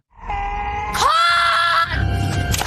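A girl screams in a kidnapping film scene, one loud, sustained, strained cry that rises in pitch and breaks into a harsher wail before tapering off.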